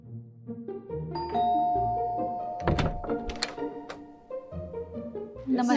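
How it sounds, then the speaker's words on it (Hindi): A house doorbell rings with a ding-dong chime, the clear ringing tones sounding close, followed by a few soft thunks and knocks. "अब चलिए बजाते हैं किसी घर की घंटी"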